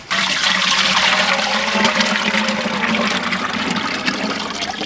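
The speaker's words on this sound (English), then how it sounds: "It's just the watering can delivers it a little more finely." A watering can pours liquid manure onto garden soil, a loud, steady gushing splash of water running close by without a break for about five seconds, with no voices.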